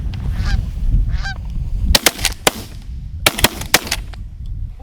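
Geese honking during an early-season goose hunt in North Dakota, with calls overhead followed by a volley of several loud, close shotgun blasts in quick succession.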